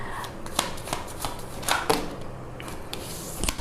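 Tarot cards being shuffled in a quiet room: a run of soft, papery riffles and flicks, close by and fairly faint, with a couple of sharper snaps near the middle and end.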